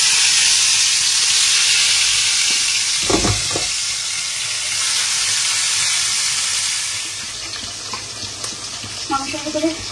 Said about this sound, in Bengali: এর ভিতরে মাছটা একটু ভেজে নিই